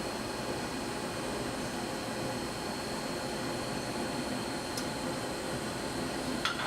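A gas-fired ceramic kiln burner roars steadily after ignition from the pilot, a dense, even rushing noise with no pauses, close and moderately loud.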